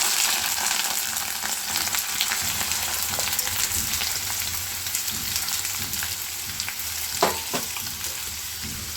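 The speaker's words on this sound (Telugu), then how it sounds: "ఇప్పుడు ఆయిల్ హీట్ ఎక్కిందండి అందులోకి మనం కాకరకాయ ముక్కలు వేసుకోవాలి" Bitter gourd pieces fry in hot oil with a dense, steady sizzle, with soft stirring and a sharper utensil knock near the end.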